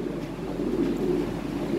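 Low, steady cooing of Lahori pigeons fills the air close by, continuous and fairly loud, with no talking.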